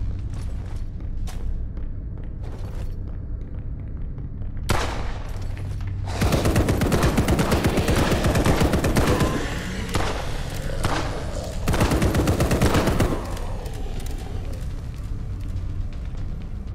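Rapid minigun fire bursts out loud in the Blackout Protocol shooter game, sustained rattling volleys with brief pauses, following earlier scattered thuds and shots.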